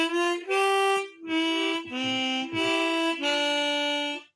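Swan chromatic harmonica plays a short practice phrase of about seven breathy sustained notes, separated by brief gaps and ending on a longer held note, close and solo.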